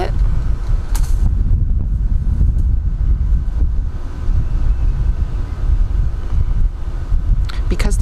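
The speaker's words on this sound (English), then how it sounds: "It's a little windy." Steady low wind rumble buffets the microphone outdoors during garden seed planting, a loud continuous roar with occasional brief gusts.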